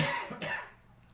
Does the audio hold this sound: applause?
no